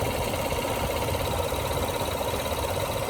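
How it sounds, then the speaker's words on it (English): A 2019 GMC Canyon truck engine with 18,000 miles runs with a fast, steady valve-like ticking over its even hum, heard up close with no one talking. "And I don't know why you hear that sound. Like a valve."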